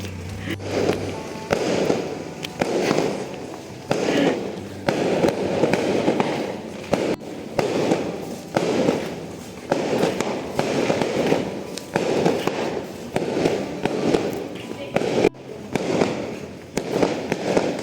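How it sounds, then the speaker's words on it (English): Fireworks bursting at night over a fishing village on Kukup Island, a steady barrage of crackling, popping explosions going on without pause, loud and close, with no talk. "I know there are a lot of fireworks clips in this vlog, but I just can't help it"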